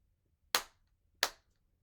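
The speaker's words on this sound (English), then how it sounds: "I'm going to give an example of what that will be just by using hand claps" Two sharp hand claps spaced about two-thirds of a second apart mark an even half-note rhythm in a music lesson. Both are crisp and close, ringing out alone in a quiet room.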